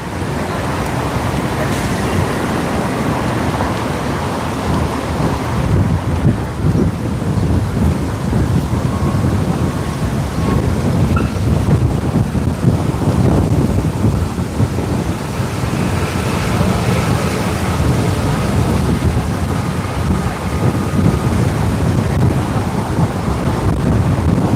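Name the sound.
strong wind blowing into the microphone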